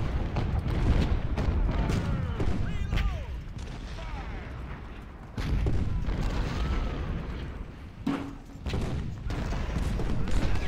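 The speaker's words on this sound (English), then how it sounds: "These siege guns can hit most of them." Siege guns and artillery batteries firing in Ultimate General: Civil War at the Battle of Chickamauga, a steady fusillade of booming cannon shots and rumbling blasts rolling continuously under a voice.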